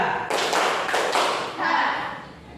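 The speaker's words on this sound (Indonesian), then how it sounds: "Tepuk dua." Students in an elementary school classroom at SD Negeri 3 Tanrutedong clap together in quick doubled claps, a few loud ragged group bursts close together, followed by faint voices and room murmur.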